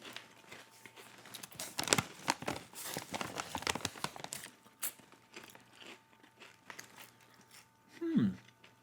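Snack chips being bitten and crunched close up, a cluster of crisp crunches early on followed by softer chewing, with a brief louder crunch near the end; the setting is a podcast taste test.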